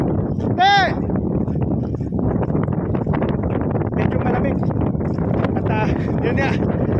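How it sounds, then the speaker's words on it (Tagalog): Strong outdoor wind buffets the microphone with a constant rough roar in cold, rainy weather, while people talk nearby and brief squeaky tones sound near the start and end. "Mahangin pa. Sobra."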